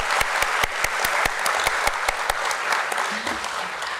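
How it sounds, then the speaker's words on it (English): An audience claps in a dense, sustained round of applause at the DOMS Industries listing ceremony at the BSE, sharp individual claps standing out through steady crowd clapping for the whole stretch. "a huge round of applause to everybody right here"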